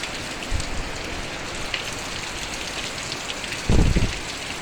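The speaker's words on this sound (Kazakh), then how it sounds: "Маңғыстау облысында нөсер жауын жауып жатыр." A heavy spring downpour falls in the Mangystau region in April, a dense, continuous hiss of rain on surfaces, broken by a couple of brief low thumps.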